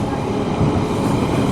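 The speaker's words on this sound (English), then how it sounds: "One of the Piccadilly Line tube train depots" A London Underground Piccadilly Line tube train rumbles at Northfields depot, a steady low, broadband roar with wind buffeting the microphone.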